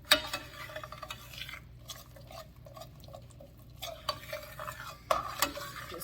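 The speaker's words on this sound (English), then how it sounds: "Just stirring it around, get it moving" A spoon stirs a thick crab and shrimp au gratin sauce in a pan, making soft, irregular scraping strokes against the metal with faint sizzling underneath, close and quiet, with no voices.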